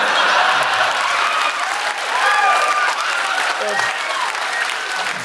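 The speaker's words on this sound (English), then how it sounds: "I think they're just applauding the payoff." A live podcast audience in a Sydney, Australia venue applauds steadily with a thick wash of clapping, while voices talk underneath throughout.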